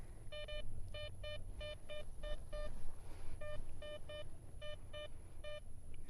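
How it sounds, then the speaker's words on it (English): Outdoor metal detector emitting a series of short, clipped electronic beeps in quick repeated bursts, suggesting a silver target, fairly close against soft outdoor background noise. "Got a very promising signal here. This is ringing up what I would expect silver to ring up as."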